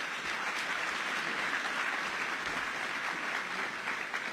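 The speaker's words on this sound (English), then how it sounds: "Please give them all a round of applause." An audience at the ACRL 13th Annual Fight for Justice gala gives a sustained round of applause for the awardees, broad and steady clapping from a large crowd with no talk over it.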